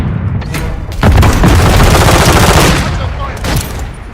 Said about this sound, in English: Incoming. Throwing grenade.